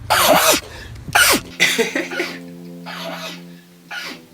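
Several sneezes and coughs from one person, sharp bursts at irregular intervals close to the microphone, with a steady low tone in the background.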